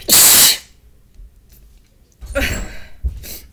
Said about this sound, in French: j'ai fini d'éternuer